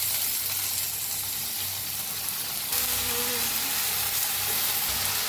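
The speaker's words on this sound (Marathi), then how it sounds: "आता त्याच्यातच टाकूया ही भाजी कापून घेतलेली" Chopped pumpkin and ambadi leaves tipped into a pan of sizzling fried onion, a steady close frying hiss that rises and crackles more strongly partway through as the vegetables hit the hot oil.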